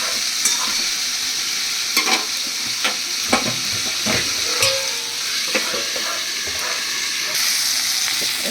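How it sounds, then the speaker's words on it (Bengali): Drumsticks and potatoes with poppy seed frying and being stirred in a pan, a steady sizzle with repeated scraping stir strokes, close and moderately loud, no talking. "এবার এটি একটু নাড়াচাড়া করে ভাজা ভাজা হয়ে আসবে।"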